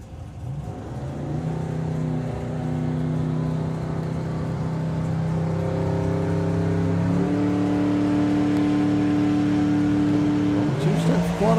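A loud, nearby drag racing car engine at Bug Jam holds a steady roar, then its pitch climbs in stages as it launches and accelerates hard, ending in a brief rough burst.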